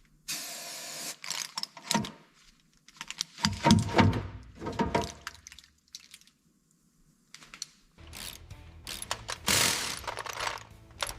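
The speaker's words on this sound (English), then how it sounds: "Tighten it slowly, compadre. It's really pulling hard now." A part is tightened during the restoration of a 1962 Ford Galaxie, with close ratchet-like clicking and mechanical rattling in irregular bursts separated by short pauses.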